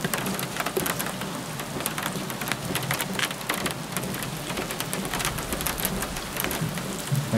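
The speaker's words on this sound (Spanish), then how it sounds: "Me encanta el puto sonido de la lluvia" Rain in the video game Jurassic World Evolution, a steady patter of drops striking surfaces with sharp individual splashes over a continuous hiss, with a low rumble of thunder beneath.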